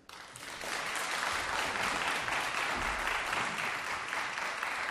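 An audience applauding at the close of a lecture at a Korean social culture college, dense steady clapping that starts almost at once and continues at an even level for several seconds, without speech over it.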